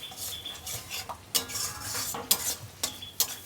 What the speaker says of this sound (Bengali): সামান্য কিছুটা পরিমাণ জল দিয়ে দিয়ে আমি কষে নিচ্ছি